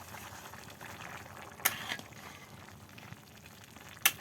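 Beef with gram dal (chana dal) braising in a pot at Muharram, giving a steady low bubbling simmer with soft sizzling and a couple of brief clinks, no talk.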